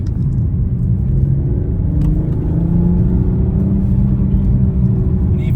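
A G42 BMW M240i engine gives a loud, close, steady rumble while the car accelerates, with a slight rise in pitch through the stretch and no talking.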